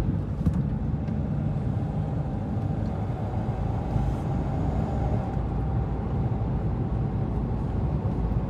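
Renault Clio 4 with the 1.5 dCi diesel cruising on a road at around 110 km/h, a steady low engine and road rumble with wind noise, no talk.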